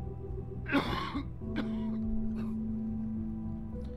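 A single throaty cough from a character in the video game The Wolf Among Us sounds close and fairly faint, followed by a few quieter throat noises over a low steady background hum.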